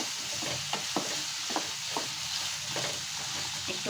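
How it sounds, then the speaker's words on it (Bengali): Bitter gourd and potato pieces fry in hot oil with a little turmeric, giving a steady soft sizzle broken by several sharp clicks and scrapes as a spatula stirs the pan. "এখন আমি ভালো করে একটু ভেজে তুলব।"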